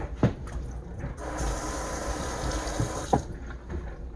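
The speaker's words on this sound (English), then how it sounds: "I'm going to have to rinse my fingers off right fast." Tap water runs into a sink as fingers are rinsed in a kitchen, a soft splashing stream starting and stopping with brief clatters at either end.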